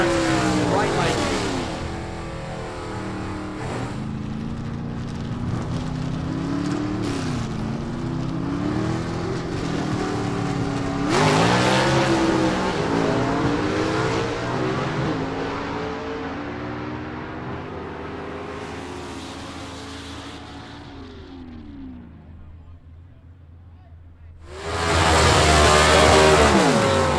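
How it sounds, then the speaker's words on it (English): A 1966 Ford Mustang Coupe at a gasser-class drag racing eliminations event, its engine revving with wavering, climbing pitch for a long stretch before fading, then a sudden loud roaring surge near the end. "And Don Wilmot out of Decatur, Georgia, in his 1966 Mustang Coupe will be in the Larice Motorsports Insurance right lane."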